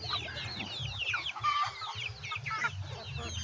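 Farm chickens from a first poultry batch clucking steadily, many birds close by with overlapping calls and a dense low murmur throughout, no talking.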